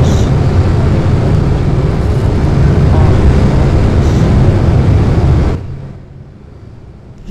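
Airplane engines in the Plane Crazy video game roar as a loud, steady, droning mechanical hum that holds for over five seconds, then cuts off abruptly into near silence.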